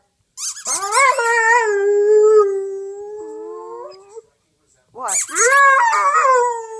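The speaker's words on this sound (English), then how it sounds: "There's no moon for you to be baying at." A dog howls and bays in long, wavering, pitch-sliding cries, pausing briefly before another howl begins, loud and close, with a person's short spoken word near the start.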